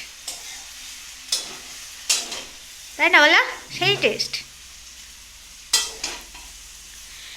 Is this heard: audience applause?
no